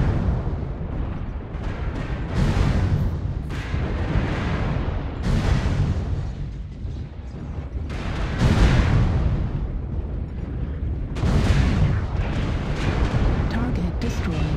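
Heavy artillery strike explosions rumble and burst one after another in MechWarrior Online, loud booming blasts spaced every couple of seconds over a continuous roar of battle noise.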